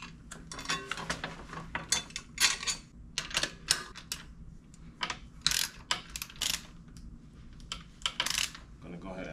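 Rear freehub of a budget beginner wheelie bike, not yet broken in, ratcheting in quick bursts of sharp metallic clicking, close and fairly loud, with short pauses between spins and no talk.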